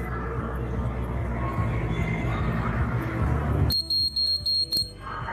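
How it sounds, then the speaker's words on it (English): An eye-closing drowsiness alert device on a crowded event floor sounds its buzzer as a run of short, high, evenly spaced beeps that cut in after several seconds of loud crowd babble. "when I close my eyes, the buzzer will automatically start"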